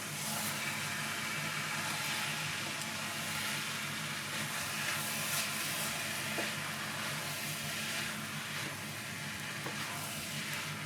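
Fried rice (nasi goreng) steams and sizzles in a small IKEA wok, a steady close hiss and crackle that continues throughout with no speech.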